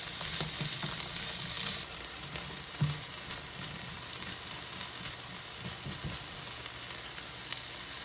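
Leftovers with added peppers fry in a skillet, a steady close sizzle with occasional stirring knocks, a bit louder in the first two seconds.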